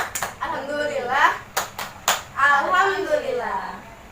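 A class of children claps the rhythmic 'tepuk bersyukur' gratitude clap, sharp bursts of hand claps in a patterned sequence interleaved with their chanting voices, close and lively.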